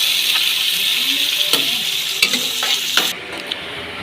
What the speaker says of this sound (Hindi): और ये जी चिकन जो है ना डाल चुकी है कढ़ाई में।